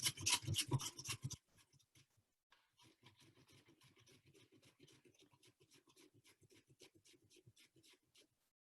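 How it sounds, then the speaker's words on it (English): Carrots rubbed against a kitchen grater for a spiced carrot and pumpkin cake, a steady run of short scraping strokes after a louder rough burst at the start, close and with no talk. "always watch out for your fingers when you're grating"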